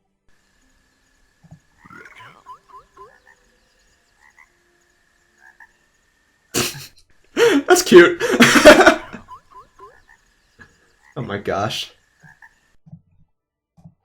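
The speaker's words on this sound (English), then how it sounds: "Fen stalkers love frogs." Frogs croak in the Hytale video game, a few soft calls scattered through the clip, with louder bursts of game sound and people talking and reacting over them.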